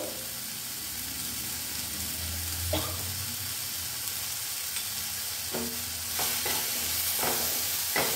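Tomato with turmeric and salt stirred in a hot pan, a steady sizzling hiss broken by a few scraping strokes of the spoon, close by and moderately loud, with no voices.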